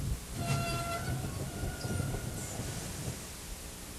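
A cartoon-style train rumbles steadily along the rails, with a brief horn-like tone near the start and a continuous clattering drive throughout, fairly close and without talk.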